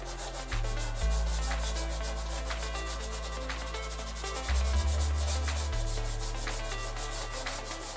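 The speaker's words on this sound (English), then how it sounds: "now I go back over those lines with the 100 grit sandpaper." Rough 100 grit sandpaper rubs over the body of a large scratch-built RC Airbus A350 model airplane, a dry rhythmic scratching of steady back-and-forth strokes, close and continuous for several seconds with no talk.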